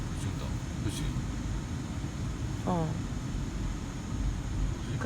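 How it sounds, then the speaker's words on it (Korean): Constant broadband whooshing of a Mercedes-Benz GLE 350de's air-conditioning fan fills the cabin, steady and fairly loud, with a brief voice-like sound partway through. "근데 에어컨 소리가 왜 저렇게 어. 심하게 지거리게 들리지?"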